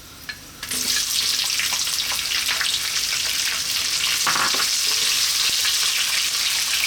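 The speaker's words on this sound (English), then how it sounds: "next up we're going to add our onion" Chopped onion hits hot oil in a pan for a vegetable biryani, bursting into a loud, steady sizzle that carries on with occasional stirring scrapes, close and with no talking over it.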